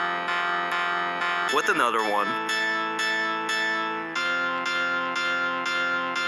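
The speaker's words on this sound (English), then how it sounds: "I'll add this power chord synth" A distorted power-chord synth plays thick, buzzy sustained chords that restart in a steady pulse, with a brief warbling pitch-bent swoop early on and a short spoken phrase over the music.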